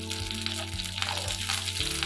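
Dried red chilies, pepper, curry leaves, shallots and garlic fry softly in oil, a sizzle over a steady low hum, with faint crackles and small pops close by.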